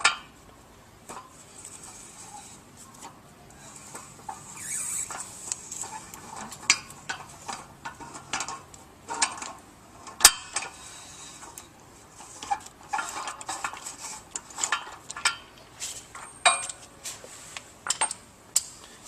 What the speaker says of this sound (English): we'll use a 41mm socket to loosen the shaft seal